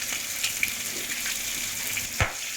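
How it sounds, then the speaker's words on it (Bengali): A spice paste of cashew, poppy seed, fennel and green chilli sizzles and sputters in a hot pan for a Bengali katla fish doi kalia, with a couple of sharp pops over the steady frying hiss. "দিয়ে আবারও আমি সুন্দরভাবে কষিয়ে নেব"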